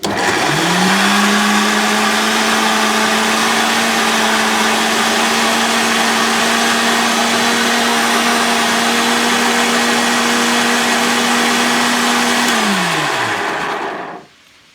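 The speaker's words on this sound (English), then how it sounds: "So I blended my garlic and butter in here." A blender whirs loudly and steadily for over ten seconds blending garlic and butter after a quick spin-up, then winds down and stops.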